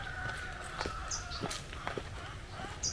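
Chickens on a brown-egg poultry farm in Quezon, Isabela, with scattered clucks and short squawks over a constant background hum, plus occasional footsteps nearby.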